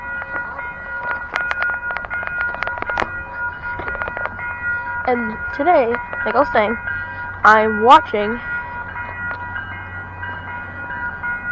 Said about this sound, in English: this MBTA train I started to go by